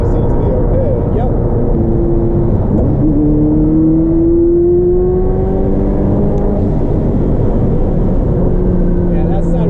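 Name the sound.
Ferrari F40 engine revving under throttle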